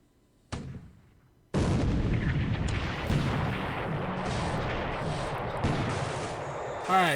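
Naval guns fire in a WWII strategy video game: a sharp blast, then a sustained roaring barrage of shots and explosions that stays loud to the end.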